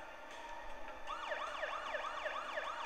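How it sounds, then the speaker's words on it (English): A police car siren in the Parasite Eve video game starts a second in and then wails up and down steadily over a low steady background. "The siren."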